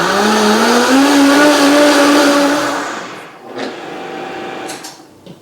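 A Vitamix blender whirs loudly with soapy water inside to clean itself, a steady high whine that spins down after about three seconds, then a few light knocks and rattles.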